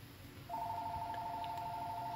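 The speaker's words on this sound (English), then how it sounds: "There goes the phone." A telephone starts ringing partway through in a room full of orchids, a steady electronic two-tone warble that holds at moderate level over faint background hum, with no voices.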